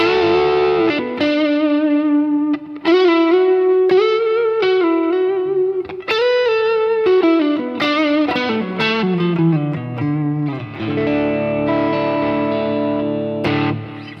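A distorted early-to-mid-1980s Greco electric guitar, Les Paul Deluxe style, plays a melodic run of sustained notes and bends, loud and up close, with no voices.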